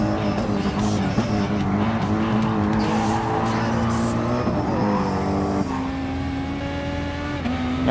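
Mercedes race car in an online Nürburgring 24-hour racing video game, its engine droning steadily and shifting pitch as it runs near other cars, with tire squeal and skidding noises mixed in and no talk.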